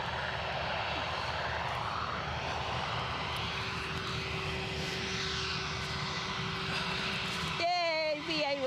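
An EasyJet airliner at Edinburgh Airport makes a steady, distant engine roar that holds for most of the stretch before a sharper whine rises near the end, with people talking over it.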